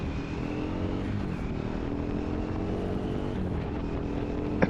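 A 2025 Triumph Scrambler 400 XC motorcycle engine accelerating toward 60 mph, a steady drone with layered harmonic tones, holding a constant loud pitch throughout with no voices.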